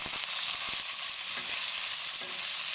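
Pork belly stir-frying in a hot pan, a bright hissing sizzle throughout with a few soft scraping knocks of a spatula, close and continuous, no voices.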